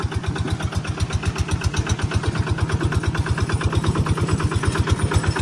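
A tractor engine chugs out in a farm field, close and loud, with a fast, even train of thumping beats that holds steady the whole time, and no talk over it.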